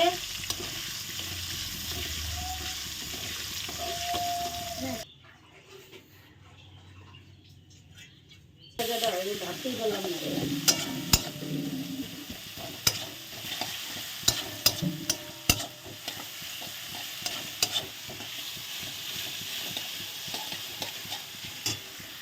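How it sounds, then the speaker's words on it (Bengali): Eggs fry in a pan for chicken curry with a continuous sizzle, punctuated by sharp clicks and scrapes of stirring. The sizzle cuts to near quiet for a few seconds, then resumes. "চিকেনে দেখো ডিমগুলো ভেজে নিচ্ছি"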